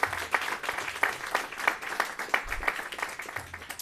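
A modest audience at a hospital unit opening celebration claps, the individual handclaps distinct and rhythmic, fairly quiet and steady, with a few low murmurs underneath.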